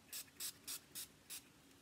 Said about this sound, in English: Squirt 2 or 3 times. Okay, so we'll put this on first. This is like a primer spray.